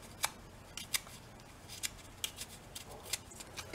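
Small snips cut in quick, sharp clicks, about eight snips spaced irregularly over a few seconds, distressing the edges of a papercraft piece so it looks old, close and clear over a low background hum.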